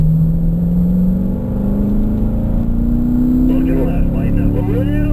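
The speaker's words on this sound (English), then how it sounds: "Add the power, fifth gear." A car under power in fifth gear on a run, its engine drone rising steadily in pitch as it accelerates, loud and continuous, with faint extra whirring near the end.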